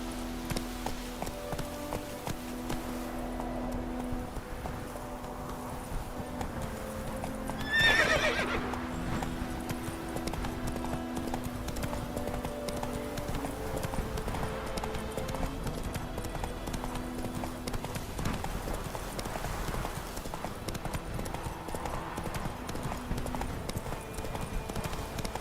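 In The Witcher 3, a horse gallops with a steady rhythmic clip-clop of hooves, and a loud whinny stands out partway through. Game music and ambience play underneath, and a voice speaks briefly.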